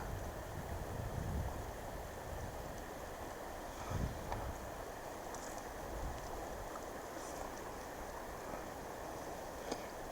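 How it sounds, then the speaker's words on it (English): Wind blows beside the Sacandaga River during a fly-fishing trip, a soft continuous rush with low gusty buffeting on the microphone and faint background water noise. "Wind's blowing a little bit"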